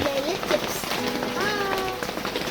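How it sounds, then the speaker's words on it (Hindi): Monsoon rain falls steadily in Matheran, a dense, continuous hiss of drops on surfaces around a roadside shelter, with voices talking over it. "बारिश हो रही है"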